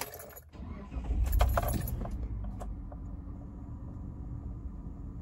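A key jingles in the ignition of a Gen3 Mitsubishi Montero, then the engine cranks and settles into a steady low idle rumble, close by with no talking.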